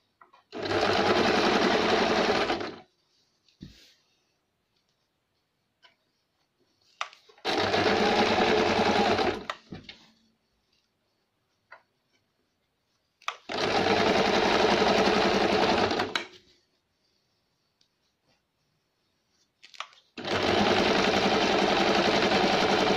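A sewing machine stitches a baby diaper in four loud, steady whirring runs of about two to three seconds each, separated by quiet pauses with faint handling sounds, heard up close.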